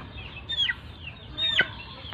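Chickens cluck nearby on a farm where a chick is sick with avian coryza, two short descending calls about a second apart over quiet background.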